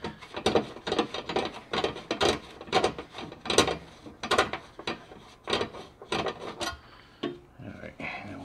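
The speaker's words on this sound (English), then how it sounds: "Loosen this up a little bit so we can just swing that little panel over." A ratchet clicks in quick bursts while loosening a 10mm bolt on a 2022 Nissan Frontier panel during an oil change, close and crisp with short pauses between strokes.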